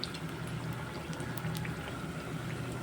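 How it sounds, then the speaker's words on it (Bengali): Thekua dough pieces frying in oil over a low gas flame, a steady soft bubbling sizzle that stays even and close throughout with no voices. "গ্যাসের আঁচটা লো রেখে ঠেকুয়াগুলোকে ভাজবো"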